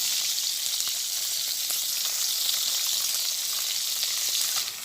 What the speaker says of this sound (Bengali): তো আমার মাছ ভাজি হয়ে গেছে, এখন মাছটা নামাই নিতেছি।